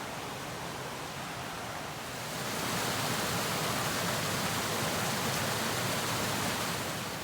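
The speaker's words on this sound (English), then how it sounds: "Now I've come to the second creek. This one is actually named. It's called Fern Creek." Fern Creek rushes through an old-growth forest in Rockport State Park, Washington, a steady broadband roar of flowing water that swells louder about two seconds in and then holds constant.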